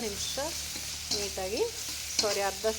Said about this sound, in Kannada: ಇದು 1 ನಿಮಿಷಗಳ ಕಾಲ ಫ್ರೈ ಆಗಿದೆ